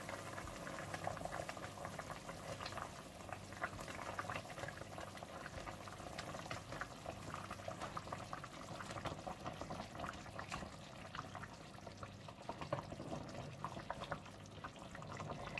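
Water boils steadily in a pot for cooking nargisi kofta, a dense continuous bubbling and hissing that stays even throughout with no voices.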